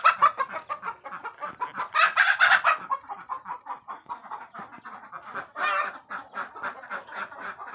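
Chickens cluck and call in a small backyard coop where hens sit to lay eggs, a close, busy stream of rhythmic clucks with a few louder bursts of squawking, no talking.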